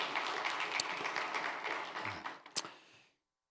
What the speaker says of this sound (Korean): 난 손뼉을 왜 안 쳐주나 했어요